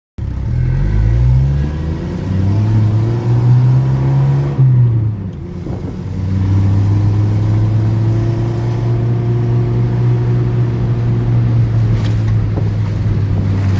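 A 1986 Jeep Comanche with a 2.5L engine revs hard while off-roading, a loud steady drone that climbs in pitch, cuts off briefly, then returns and holds a sustained high rev.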